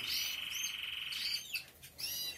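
A timbrado canary sings a bright, steady trilling phrase up close, followed by a few shorter chirping bursts after a brief pause.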